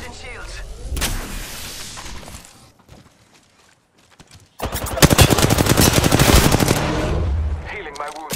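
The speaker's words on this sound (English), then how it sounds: "They're shooting at me." Automatic weapon fire in the battle royale shooter Apex Legends: an opening burst, a near-silent lull, then a long rapid stream of loud, closely spaced shots lasting several seconds, with game voice lines around it.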